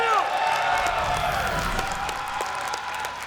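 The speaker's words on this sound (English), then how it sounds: "A lot of Team Liquid fans, a lot of TaeJa fans here cheering him on" A crowd of Team Liquid and TaeJa fans cheers and shouts at a live StarCraft tournament event, a loud, steady roar that stays sustained throughout.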